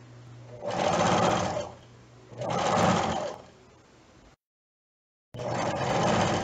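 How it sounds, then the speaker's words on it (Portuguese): A sewing machine stitches a skirt waistband in three separate whirring runs, each about a second long, with short pauses and a brief silence between them, close and loud. "Essa costura que eu tô fazendo agora, do cós, ela é pelo avesso mesmo"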